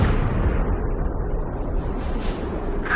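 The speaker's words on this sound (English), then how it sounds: "Mass driver hit by cruise missile!" A cruise missile strikes a mass driver in the combat flight game Ace Combat 5, a dense, continuous roar of rumbling explosion that stays loud and steady for the full three seconds, with no voices.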